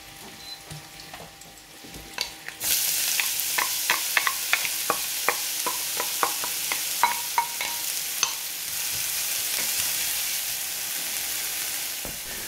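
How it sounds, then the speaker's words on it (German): Onions fry in oil in a pan that previously held meat, with a loud, constant sizzle punctuated by a steady series of scraping stirs from a utensil. "diese Zwiebeln, die werden wir jetzt in der Bratpfanne, wo wir das Fleisch drin hatten, anbraten"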